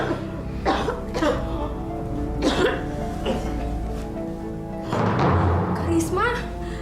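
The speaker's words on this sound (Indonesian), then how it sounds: "kenapa bisa batuk darah begini?" Several harsh coughs of someone coughing up blood break out in uneven bursts, close and loud, mixed with talking and a murmur of other voices.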